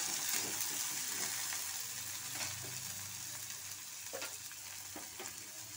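Onions frying in hot oil in a karahi, a steady close sizzle with soft scrapes and occasional taps from stirring, no voices.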